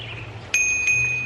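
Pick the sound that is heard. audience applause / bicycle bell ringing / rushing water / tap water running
bicycle bell ringing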